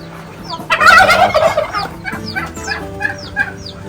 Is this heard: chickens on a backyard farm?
yes